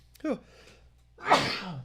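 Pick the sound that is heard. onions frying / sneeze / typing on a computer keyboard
sneeze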